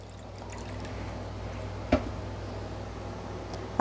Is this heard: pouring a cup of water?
yes